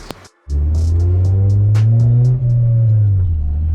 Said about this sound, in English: You guys probably even hear that rattle a little bit right now that I'm driving it around.